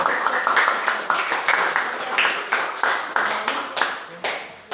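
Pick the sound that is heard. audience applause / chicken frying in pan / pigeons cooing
audience applause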